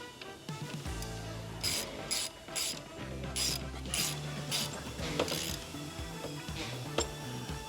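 Screws of a tilt limiter on an Aeron Classic chair being tightened: repeated close ratcheting clicks and small metallic turning sounds in short bursts, quiet and without talk.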